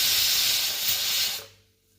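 A pressure cooker on the stove lets off a loud, continuous hiss of escaping steam while cooking a weight-loss soup, then cuts off abruptly, leaving a faint hum.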